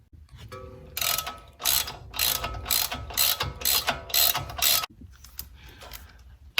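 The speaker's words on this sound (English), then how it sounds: "we'll get those two in and snugged up, and then we can put the control arm in" A ratchet wrench snugs up control arm bolts on a BMW E90 xDrive, a run of quick rapid clicking bursts in a steady rhythm, close and loud, then stopping.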